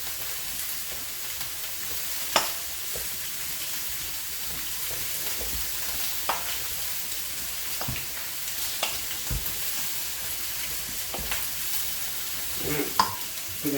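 Cajun shrimp and chicken sizzle faintly in a pan as it is stirred, a low steady hiss broken by occasional scrapes and clinks of the utensil, with no one speaking.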